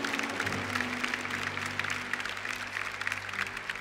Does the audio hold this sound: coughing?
no